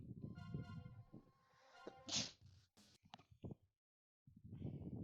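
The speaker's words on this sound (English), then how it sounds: "That was a sneeze." A single sharp sneeze bursts out in the middle of a video game stream for Tokyo Xtreme Racer Zero, set between tonal game sounds and brief quiet gaps.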